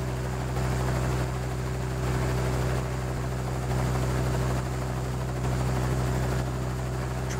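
A zeppelin drones along in the Dinosaur Train racing video game, a steady, loud, engine-like hum that holds evenly throughout with no voices.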